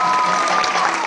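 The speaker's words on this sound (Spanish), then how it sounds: "Fuerte el aplauso para él." A brief burst of steady audience applause at a Latin band's presentation, dense clapping filling the moment with a sustained tone audible underneath.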